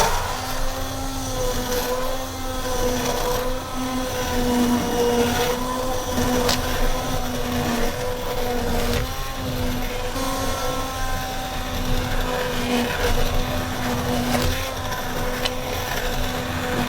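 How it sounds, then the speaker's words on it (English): An old immersion blender purees broccoli and chicken soup with a steady, droning motor whine that runs without a break, loud and close, with the pitch wavering slightly as the blade works through the pot. "Now let's get to blending."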